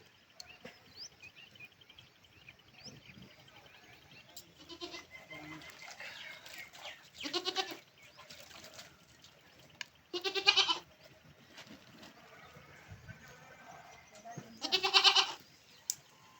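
Goats on a farm during a Mattu Pongal celebration bleat in three loud, separate calls spaced several seconds apart, standing out over quieter background talk and rustling.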